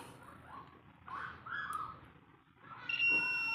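A SAMWA YX-360TRE-L-B analog multitester in buzzer mode beeps for continuity in short bursts, with a few brief tones separated by quiet gaps, close and moderately loud.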